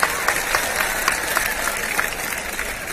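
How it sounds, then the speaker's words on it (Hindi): Audience applause fills the space, a continuous broad wash of many hands clapping at a steady level with occasional sharper claps standing out. "तालियां तालियां।"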